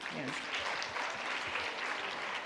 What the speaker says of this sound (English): Can we have more claps here, please?